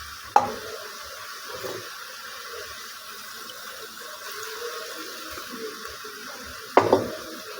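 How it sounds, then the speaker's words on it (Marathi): A spoon stirs green chili thecha and dal in hot oil for a spring onion dish, giving a soft sizzle and faint scraping, with two sharp clanks against the pan near the start and end. "ते सगळं आता तेलात हलविते"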